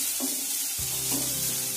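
Cabbage filling for momos sizzling in a pan, a close hiss with quick stirring scrapes of a utensil, brief and steady with no talk.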